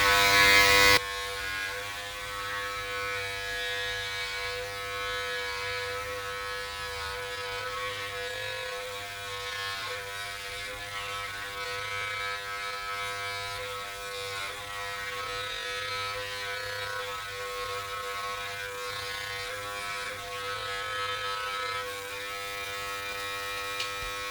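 Braun Body Groomer Series 7 trimming body hair, a steady close electric buzz with a constant motor hum running for the whole stretch, starting with a brief louder burst.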